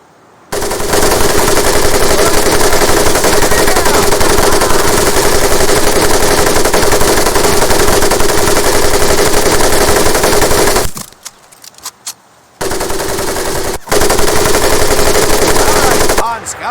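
Mounted machine gun blazing in the WWII Pacific shooter Medal of Honor Pacific Assault: a loud, sustained rapid-fire stream lasting about ten seconds, then a brief lull and a second shorter burst.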